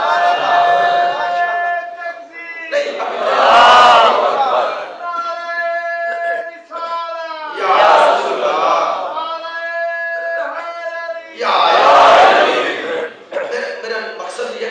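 At a Shia majlis in an imambargah, a large crowd chants slogans in unison, loud roaring surges repeating at regular intervals, with a lone voice leading between each collective shout.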